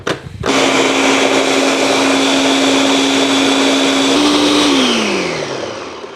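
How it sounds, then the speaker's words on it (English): A kitchen blender whirs loudly as it blends olives for a vintage recipe, starting abruptly, holding a steady high whine for several seconds, then winding down at the end. "And then we blend."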